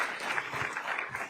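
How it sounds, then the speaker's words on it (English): An audience at an anti-monopoly summit applauds Senator Murphy and Sagar after their conversation, giving a short, moderately loud burst of clapping from a crowd. "Round of applause to both Senator Murphy and Sagar for the conversation."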